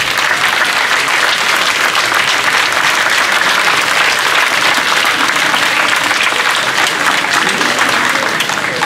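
A festival crowd at a Portuguese folk cantoria night claps loudly for a performer called to the stage, a thick, continuous roar of hands that holds at full strength.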